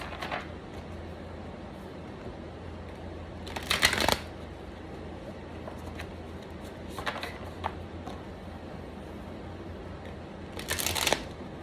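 Tarot cards being shuffled in three brief riffling bursts spread over a quiet stretch, with soft handling noise between them and no voices.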